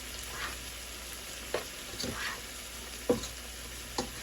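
Country Crock plant-based butter melts and sizzles softly in a pan, a faint steady hiss with a few light utensil taps and scrapes, no speech.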